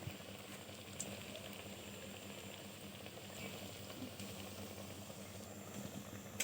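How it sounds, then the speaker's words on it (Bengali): Puffed-rice sweet pieces fry in bubbling oil on a gas stove, making a faint, continuous fine sizzle and crackle with no voices. "দেখো কি সুন্দর করে ভাজছি। দেখো তেলটাও কি সুন্দর বুঝবুঝি কাটছে।"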